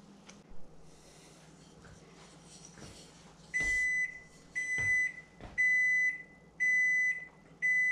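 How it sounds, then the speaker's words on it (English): Kitchen timer going off after ten minutes of steeping tea for homemade kombucha, giving a string of loud, evenly spaced electronic beeps that repeat in short bursts over quiet kitchen background sounds. "Set my kitchen timer for 10 minutes"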